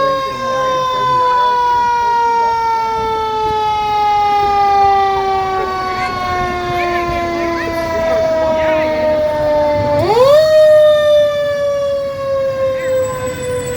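A refinery firefighting crew's fire truck siren wails through a Halloween fall parade in a small Illinois town, a loud steady tone slowly falling in pitch, then winding back up sharply near the end.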